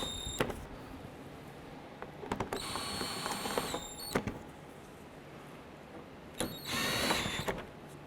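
A power tool briefly whirs in short bursts, snugging down headlight screws on a 2012-17 Toyota Camry, with quiet pauses between the three or four runs.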